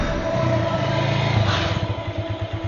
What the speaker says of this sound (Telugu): ఏంటి సార్ ఇంత ట్రాఫిక్?